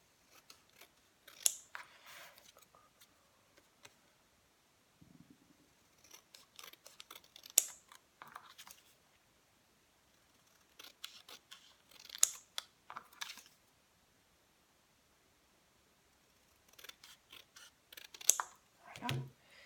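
Paper card for a pop-up scrapbook card is cut with scissors in several separate bursts of close, crisp snipping and rustling, with quiet pauses between them.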